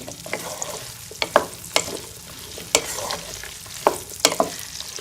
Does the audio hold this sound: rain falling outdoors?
no